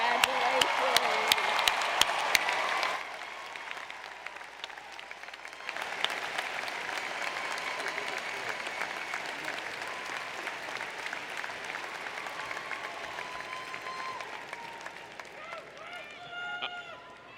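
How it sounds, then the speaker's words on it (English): Graduates at the University of Maryland 2018 spring commencement stand and applaud, a broad, sustained roar of clapping and cheering from a large crowd that follows an amplified speaker and continues for many seconds. "please stand up and give yourselves a big round of applause"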